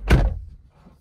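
A 2024 BMW X3 door shuts with a single heavy, low thunk close by, followed by a faint rattle and then near quiet.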